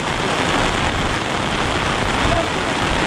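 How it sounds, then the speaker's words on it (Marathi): Heavy monsoon rain in a rural village in Mandangad pours down as a loud, steady, unbroken roar that fills the whole clip. "इकडे पाऊस अजून काही थांबायचं नाव घेत नाही"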